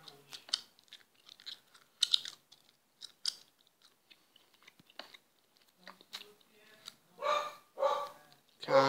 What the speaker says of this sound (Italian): Cane che abbaia.